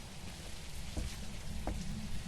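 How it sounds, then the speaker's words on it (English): Steady, fairly quiet rainfall in the Phasmophobia video game, an even hiss of drops on surfaces heard alone, with a couple of faint brief knocks. "Just normal rain."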